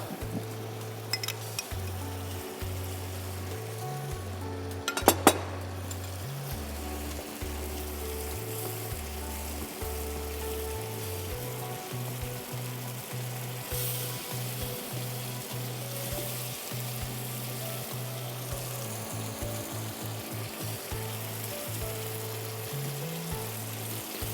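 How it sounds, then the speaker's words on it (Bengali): Chicken and almond paste sizzle and fry in a pan, a steady crackling hiss with intermittent scraping stirs and a sharp clank of utensil on the pan, no voices. "এখন আমি চিকেনটা দিয়ে দিব। আর বাদাম বাটাটা দিয়ে দিব।"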